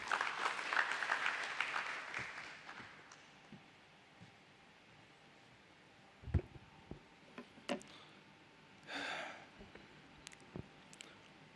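Applause from the audience at a company stock-listing ceremony, a dense burst of clapping for about three seconds that quickly fades, followed by scattered claps, clicks and rustling.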